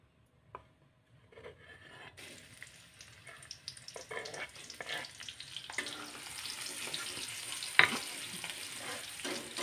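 Sliced garlic, shallots and chili drop into hot oil and begin to fry, the sizzle starting faintly then building into a steady crackle with intermittent scraping stirs and a sharp clink near the end.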